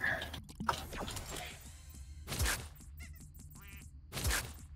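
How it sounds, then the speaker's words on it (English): Ducks quacking in the Portal 2 game, a few faint nasal calls and honk-like bursts over a low mechanical hum, with brief talking underneath. "I hear ducks."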